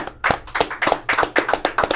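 Group of people clapping in rhythm during a casual talk show, about a dozen sharp, close, evenly spaced claps over two seconds with no talk.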